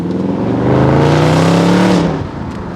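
A Dodge Charger Scat Pack Widebody with a mid muffler delete accelerates hard down a street, its loud, deep exhaust rising steadily in pitch over about two seconds before easing off.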